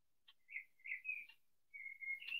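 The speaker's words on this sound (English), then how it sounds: "I hear the bird" A single bird outside sings a soft, clear whistled song of several drawn-out tonal notes with short chirps between, faint and distant in an otherwise quiet room.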